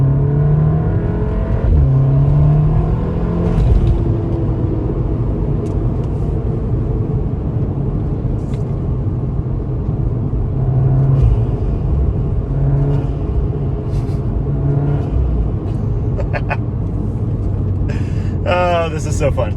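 VW MK7 Golf R fitted with an Integrated Engineering intake accelerating in second gear, a loud continuous engine drone and rising induction roar heard from inside the car, with brief hiss and chatter over it and people talking.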